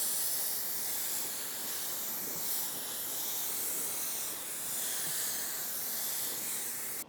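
A spray gun hisses continuously as it lays a first primer coat on a car panel, a steady close, loud airy spray with no talk.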